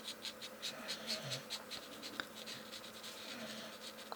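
Marker strokes scratching across paper while coloring in drawn leaves, a soft rhythmic series of short swishes at a steady pace, close up and quiet with no talking.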